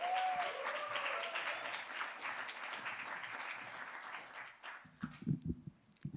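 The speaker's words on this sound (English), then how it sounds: "could we give a massive round of applause" An audience at a poetry slam event applauds, a dense wash of clapping that slowly fades over several seconds, followed by a few low thumps and faint voices.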